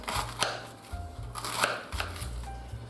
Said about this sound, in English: Cabbage we cut